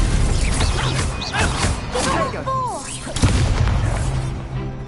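Stupefy spell cast in Hogwarts Legacy on PS5, a heavy booming magical impact with crashing bursts and whooshing effects over game sounds, the character's voice calling out the spell.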